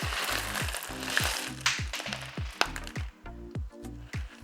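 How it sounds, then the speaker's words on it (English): LECA clay pebbles pour into a cache pot with a dense, crackly rattle of small clay balls tumbling and settling, heard over steady background music with a rhythmic bass line. "Just going to put the leca in my cache pot."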